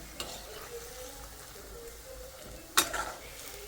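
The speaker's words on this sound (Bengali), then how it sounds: "আর এখন এই কটা ভাজতেছি" Quiet, steady sizzle of food frying in a pan, with a sharp clink of a utensil near the end; no talking.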